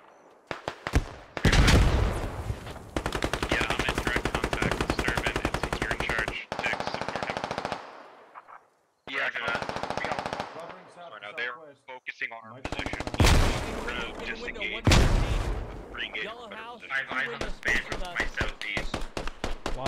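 Sustained automatic gunfire with bursts and sharp blasts from grenades in a military squad shooter game, dense and loud, with short gaps between volleys.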